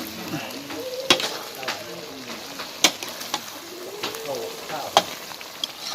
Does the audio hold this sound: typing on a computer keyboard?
no